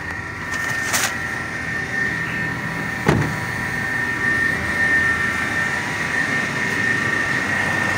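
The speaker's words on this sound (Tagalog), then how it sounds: "Pakinggan natin yung makina." A car engine, just after a camshaft timing sprocket change, runs with a steady hum and constant mechanical whine throughout, joined by a couple of brief clicks or knocks; no voices.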